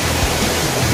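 Devkund waterfall in dense forest in Odisha, a steady broadband rush of falling water, loud and continuous for about a second with no distinct events.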